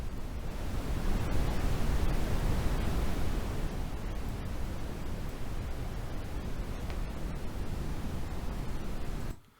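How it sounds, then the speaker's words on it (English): A Brownian noise test tone: a steady wash of broadband noise, deep and rumbling with a softer hiss on top, holds constant for several seconds, then cuts off abruptly. "if we look at the spectrogram of Brownian noise, it's not consistent"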